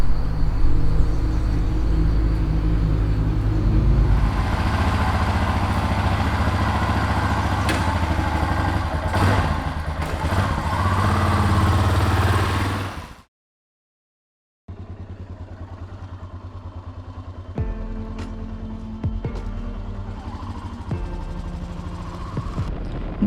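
An off-road motorcycle rides along a mountain road, its engine a steady loud drone with clatter. It stops briefly into silence, then returns as a lower idle with occasional sharp knocks.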